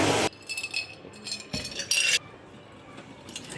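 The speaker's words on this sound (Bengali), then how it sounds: "দেখেন এখন আমি পোলাওটাকে নেড়ে দিব একটু" A spoon clinks and scrapes against a cooking pot while pulao is stirred in a home kitchen, a few bright metallic knocks spaced over a few seconds with quieter rattling between them.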